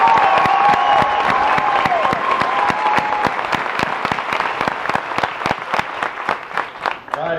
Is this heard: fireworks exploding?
no